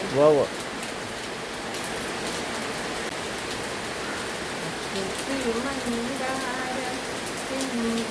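Steady rain falls continuously in an even hiss, with faint voices briefly heard beneath the downpour.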